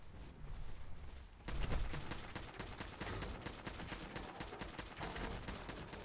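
Rapid gunfire in Fallout 4: Far Harbor as a fog crawler is shot at, a dense run of close, loud shots continuing steadily for several seconds after a brief quieter lead-in.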